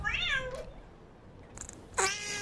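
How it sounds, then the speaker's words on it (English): A pet cat meows angrily, one drawn-out, rising and falling complaint at the start followed by two shorter yowls, close and fairly loud over a low background hum. "Oh, kitty's mad."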